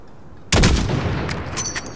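A sniper rifle shot at 600 meters range in Call of Duty Modern Warfare 2019, a single sharp, loud report after a quiet moment, followed by a decaying rumble and a few faint mechanical clicks.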